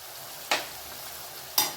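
Onions, tomatoes and green chillies sautéing in a pan for chilli kothu chapathi, with a steady close sizzle and two sharp stirring scrapes about a second apart, no voices.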